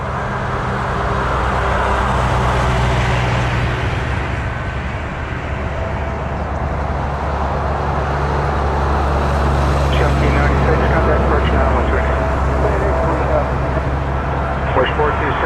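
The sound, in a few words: airplane taking off from runway 23 at Toronto Pearson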